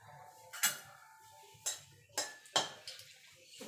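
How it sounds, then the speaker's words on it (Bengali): Dry red chillies and a bay leaf being stirred in a pan while tempering Bengali biulir dal: a few sparse, sharp clinks and scrapes of a spoon against the pan, fairly quiet, with no talking. "শুকনো লঙ্কা তেজপাতাটা একটুখানি নাড়াচাড়া করে নেব।"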